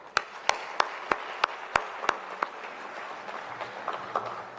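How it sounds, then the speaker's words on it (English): Sparse, separate hand claps ring out one after another at a gathering in Tirupati, sharp and fairly close, over a low murmur that fills in toward the end. "Applaud"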